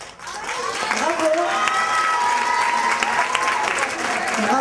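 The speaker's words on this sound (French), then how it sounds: "Je vous laisse regagner vos places sur les applaudissements." A French eloquence contest audience gives sustained applause with cheering, a dense crowd roar with raised voices and shouts running steadily throughout.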